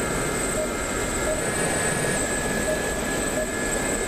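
Engine of a light attack aircraft, the IA-58 Pucara, in DCS during a Falklands War dogfight against a Gazelle helicopter: a steady, continuous drone with tonal whine, constant in level throughout.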